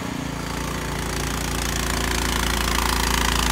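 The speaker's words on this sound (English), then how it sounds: "This is a track machine. It's just plowing right through the snow." A Cub Cadet three-stage tracked snowblower plows through snow, its engine droning loud and steady with a low rumbling chug throughout, building slightly toward the end.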